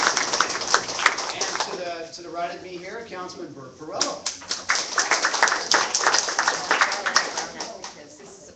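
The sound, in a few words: applause at a public meeting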